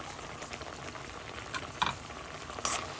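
Cashews and papaya are stirred into sugar syrup in a pan, with a steady soft bubbling sizzle and a few brief scraping clicks from the spoon.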